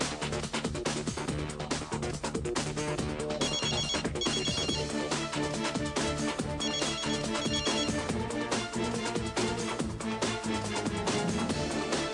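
A telephone ringtone plays steadily over busy, dense music, its tone repeating throughout at moderate loudness.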